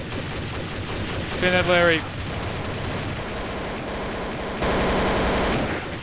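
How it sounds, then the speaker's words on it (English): Gunfire in the video game Trouble in Terrorist Town, with rapid bursts of shots under excited voices talking, loud and dense near the end. "Why am I getting shot at? Who is shooting me?"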